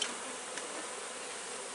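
Honey bees swarm in a dense, steady buzz close around an open, healthy hive going into winter, the drone holding at an even level throughout without any talk.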